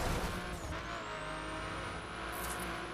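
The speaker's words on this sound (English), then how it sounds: "I'm hearing lots of smash-ups behind me." Cars skidding and smashing in a street-racing video game, engines roaring with tire squeal and continuous race noise, loud and sustained.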